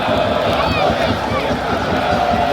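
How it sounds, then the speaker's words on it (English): A packed stadium crowd at an Atlético Nacional football match in Medellín, Colombia, roars loudly and continuously, a dense wall of many voices that stays close and steady throughout. "High energy, loud crowd"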